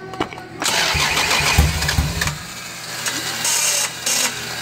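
A Lexus GS300 with a swapped 2JZ VVTi engine starts up: a short cranking stutter, then the engine catches and settles into a steady, close, loud idle with slight fluctuations.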